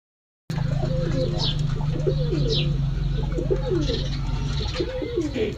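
Pigeons coo steadily in a close, repeated rhythmic pattern over a constant low background hum, with no talking.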